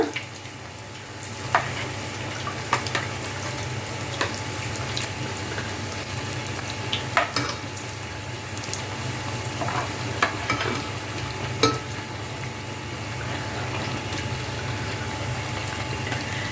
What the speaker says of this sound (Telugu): సో దానికి నూనె లోపల బ్రెడ్ వేయిస్తున్నాను